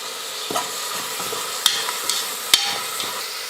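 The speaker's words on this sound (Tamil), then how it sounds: "எல்லாம் சேர்த்து எண்ணெயில் நல்லா வதக்கிக்கலாம்." Grated carrot and curry leaves sautéing in oil for carrot and green pea pongal crackle with a soft sizzle, broken by a few sharp spoon scrapes and knocks against the pan, close up with no talking.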